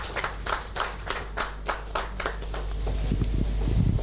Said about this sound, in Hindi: प्लीज आप लोग तालियां बजाएं।